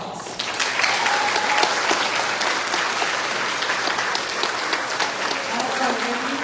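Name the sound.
audience applause for fair royalty contestants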